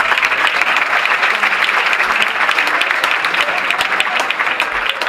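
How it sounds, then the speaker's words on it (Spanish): An audience at a community festival in Antequera breaks into loud, dense applause that holds steady and unbroken throughout, with faint crowd murmur beneath. "¡Un aplauso más fuerte!"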